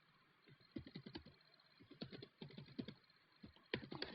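Quick, close bursts of typing on a computer keyboard, rapid irregular key clicks in short runs with brief pauses, faint overall and with no talking.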